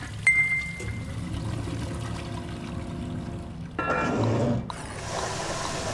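Toilet water in the video game Aperture Desk Job rushing and trickling quietly, then a louder surge of flushing water before settling into a soft flow.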